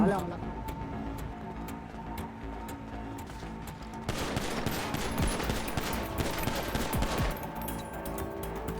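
Rapid bursts of gunfire in GTA 5 crackle throughout, growing denser and louder midway, with a voice speaking over the shooting.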